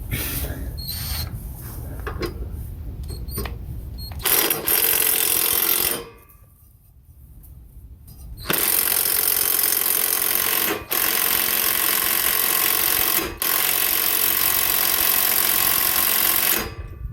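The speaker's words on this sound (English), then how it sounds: "what does mulching up sticks and limbs and things do to a lawnmower blade?" A loud lawnmower engine roars with harsh grinding and crunching as it mulches sticks and limbs, briefly dropping quieter before surging back to full power.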